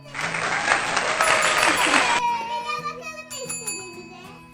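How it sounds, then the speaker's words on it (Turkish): A family at home claps for children finishing an educational cup-stacking game, a burst of close applause for about two seconds that gives way to a voice and other talk. "Bitirince birbirinizi alkışlayın tamam mı?"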